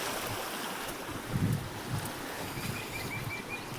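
Rainwater running off after a heavy night downpour, a continuous faint gushing wash of flowing water with slight surges, no voices.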